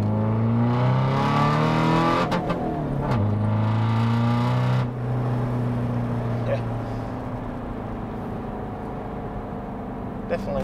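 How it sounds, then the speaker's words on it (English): Tuned 263bhp 1.6 TDI car accelerating hard through the lower gears, with the engine drone climbing and dropping at several gear changes before settling into a quieter cruise, a voice talking over it. "Pulls all the way to the top to try and get a little bit of acceleration in the lower gears"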